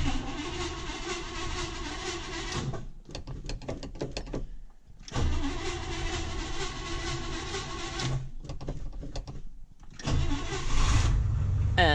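A 1956 Chevrolet Bel Air with an original 265 V8 and dual exhausts is cold-started at 45 degrees, cranking in repeated bursts with short pauses before catching and running, loud and close.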